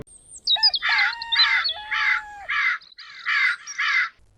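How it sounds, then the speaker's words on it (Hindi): Morning birds call around a village, a clear run of harsh caw-like cries mixed with whistled chirps, repeating in steady bursts with no talking. "पक्षी गा रहे थे"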